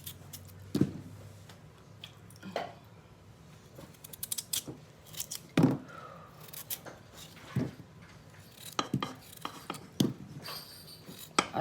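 Knife or kitchen shears cutting raw chicken pieces into similar sizes for the air fryer, giving a series of short, sharp snips and clicks spaced irregularly over a quiet kitchen background.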